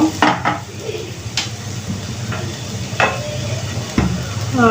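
Okra frying in a pan, a constant sizzle broken by several sharp scrapes and clinks of a spatula stirring against the metal, close and fairly loud.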